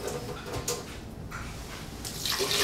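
Cold water is poured into a container to make lemonade, a continuous splashing gush with a brief lull midway and a brighter, louder stream near the end.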